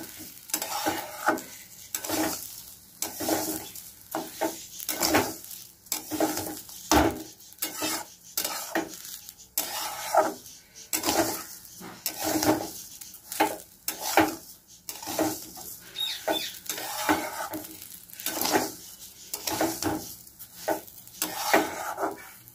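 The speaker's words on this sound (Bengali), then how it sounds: "হলুদটা দিয়ে একটু নাড়বো।" Turmeric being stirred into a frying pot while cooking polao: a steady sizzle under repeated scraping strokes of a utensil against the pot, loud and close, with no voices.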